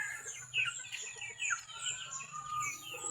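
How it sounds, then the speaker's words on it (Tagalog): Chickens cluck and chirp softly in a flooded yard, a faint scattered chorus of short calls with no talking. "Nanggawas na akong mga manok ko."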